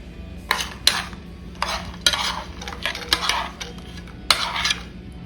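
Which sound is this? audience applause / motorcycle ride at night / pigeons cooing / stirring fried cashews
stirring fried cashews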